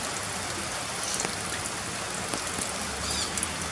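Heavy rain pours in a dense, steady broadband wash, loud and close, with scattered sharper drop impacts over a constant roar and no voices.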